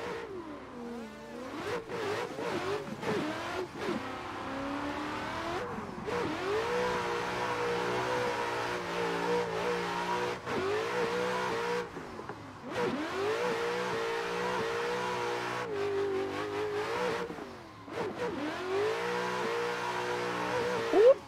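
A Mazda RX-8 drifts around the Misano track in a racing video game, its engine revving and dropping in long, wailing sweeps with repeated tire squeal, loud and continuous.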